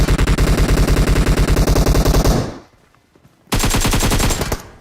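Automatic gunfire from a weak-damage gun in the mobile battle royale BGMI, a loud rapid burst of shots, a brief silence, then another sustained burst.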